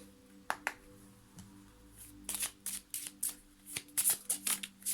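Lenormand cards being shuffled for a divination reading: a few soft riffles early on, then a quick run of crisp, close card slaps and flutters toward the end, with no talking.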